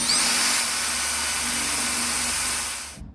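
A loud, close power-drill whine runs steadily for about three seconds as it drills through a Mercedes Sprinter van panel, then cuts off abruptly into silence.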